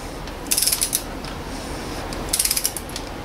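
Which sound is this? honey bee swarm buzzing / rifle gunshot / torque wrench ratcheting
torque wrench ratcheting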